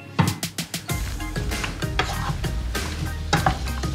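Sweet potatoes frying in a pan being stirred, opening with a few sharp utensil knocks, then a continuous sizzle with scraping stirs and occasional clinks, close and fairly loud without speech.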